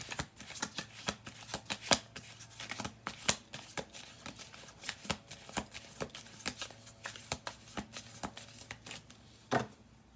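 Playing cards being shuffled up close, a rapid run of crisp riffling clicks and snaps repeated continuously, with sharper flicks standing out now and then.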